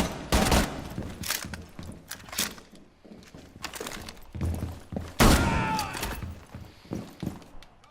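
Bursts of gunfire from Rainbow Six Siege land as irregular clusters of sharp shots, some close and loud, with gaps of quieter game ambience between them and no speech over the top.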